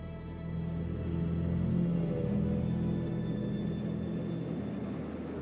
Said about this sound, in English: This is the sound of an FM trainmaster.